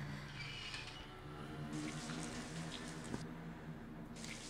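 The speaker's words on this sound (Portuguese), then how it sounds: "Opa, não consegui fechar a torneira." Water runs steadily from a shower tap in a cartoon bathroom in the Toca Life game, a continuous soft hiss of spray with a brief click partway through.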